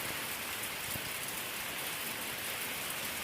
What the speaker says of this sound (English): Not even an hour later, it's raining again.